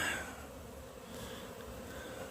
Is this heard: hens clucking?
no